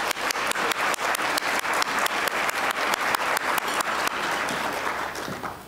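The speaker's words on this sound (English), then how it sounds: "Let's give our sponsors one last round of applause." At a luncheon for the San Marcos State of the City address, an audience applauds the sponsors. One or more nearby people clap sharply in a steady beat over broader applause, which thins and fades at the end.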